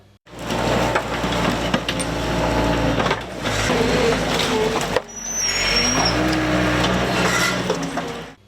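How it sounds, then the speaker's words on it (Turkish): Lumber and debris waste from an industrial estate is loaded onto trucks, with loud crunching, scraping and cracking of wood and rubble, thuds, and heavy vehicle engines running close by in two long bursts. "kereste atıkları ve moloz atıkları başta olmak üzere ticarethanelerden çıkan sanayi atıkları tek tek kamyonlara yüklenerek bertaraf edilmek üzere sanayi sitesinden kaldırıldı"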